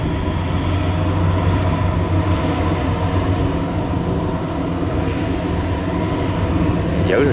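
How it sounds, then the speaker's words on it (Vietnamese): A large twin-hull high-speed boat's engine gives a loud, continuous, low droning roar on open water, steady throughout with no pauses. "Tiếng động cơ"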